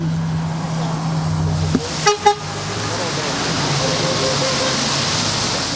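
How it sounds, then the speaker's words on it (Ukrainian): Car horns toot in greeting on a busy city street, two or three short honks close together amid steady traffic rumble, with people talking faintly in the background. "водіям машин, які поспішають у своїх справах, які також радо вітають його, подаючи звуковий сигнал"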